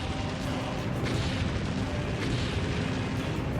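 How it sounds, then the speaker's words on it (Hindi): Deep, continuous rumbling booms and bursts from drone-strike explosions over Kyiv, a dense, sustained roar with no clear gaps and no voices. "कीव पर ऐसे कई धमाके हुए हैं"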